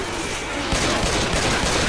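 Gunfire in the zombie shooter Left 4 Dead 2: a dense, continuous burst of rapid shots that swells louder after the first moment, loud and close with no break for the whole span.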